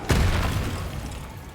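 A Confringo blasting spell goes off in the Hogwarts Legacy video game as one loud, deep boom with a sharp onset that rumbles and fades over about a second and a half.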